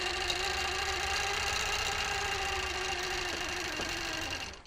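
Quilting machine stitching with the channel lock engaged, a steady close droning hum with a fast repetitive needle rhythm running unbroken before it winds down at the end.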